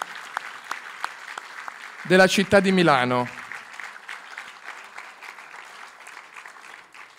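Audience applause welcoming author Abdulrazak Gurnah at a Milan event, a steady patter of many hands running under someone speaking Italian into a microphone.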